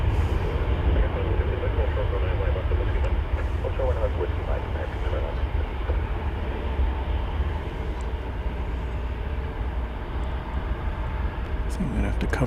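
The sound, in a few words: airliner from Australia at DFW Airport in mist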